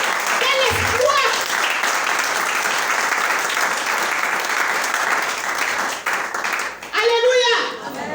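A church congregation bursts into loud, sustained applause and clapping, with a voice crying out above it at the start and again near the end.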